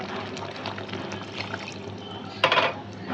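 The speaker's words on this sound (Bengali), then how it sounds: "একটু জল দিয়ে দিই" Water is poured into a pot of chicken curry being cooked bhuna-style, a short splashing gush rising suddenly near the end over a quiet kitchen background.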